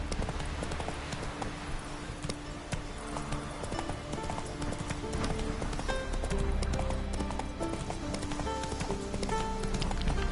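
A horse galloping in the PS4 game The Witcher 3, a fast steady clip-clop of hooves over continuous background game music and ambience, moderately loud throughout.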